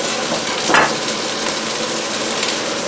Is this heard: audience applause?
no